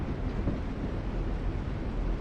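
Steady rumble of a train in motion carries through the whole stretch, loud and close, with a dense low roar and no voices over it.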